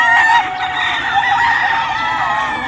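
Dense chorus of desi chickens and roosters on a farm flock of about 1200 birds, with overlapping clucks and crowing filling the whole stretch at steady, loud volume.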